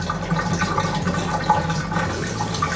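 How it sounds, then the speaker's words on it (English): Water from a partly filled bathtub drains out through the overflow during a slow-drain repair, a steady close rushing and gurgling flow that holds at an even level with no talking. "if you can hear water coming out of the overflow like we can now, then that's a good sign."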